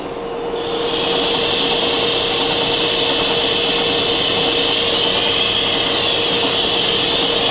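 A metal lathe turns down a part and chamfers its outer and inner diameters, a loud steady whir with a sustained tonal hum that ramps up in the first second and then holds evenly, with no talking.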